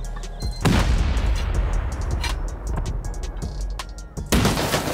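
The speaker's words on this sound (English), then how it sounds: "I think I just heard a bunch of turrets in there" Automated turrets fire inside a giant open-core pyramid base during a video game raid, with loud, dense bursts of rapid gunfire and a fresh volley near the end.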